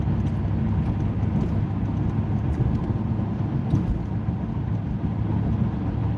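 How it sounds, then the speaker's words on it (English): A car's big high-horsepower engine pulls hard through its mid-range to chase down traffic, a steady, loud, unbroken drone with road roar that holds for several seconds. "the mid-range and top end of this big motor will just chase them down"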